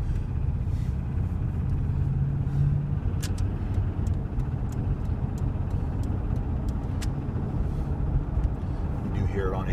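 A 1999 Chevy 5.7 Vortec V8 with a suspected lifter, piston slap, wrist pin or rod fault idles close by, giving a steady, continuous low rumble throughout with no obvious knock standing out.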